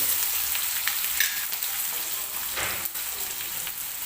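Chopped onion frying in oil for dal khichdi, a steady close crackling sizzle throughout with a few louder spatters, no talking.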